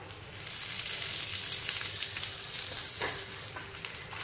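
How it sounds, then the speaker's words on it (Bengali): Soybean chunks frying in hot oil with chopped garlic and cashew give a steady, dense sizzle that runs throughout, with a few brief clinks of stirring and no talking. "2 মিনিটের মতো এটা ভেজে নিলাম"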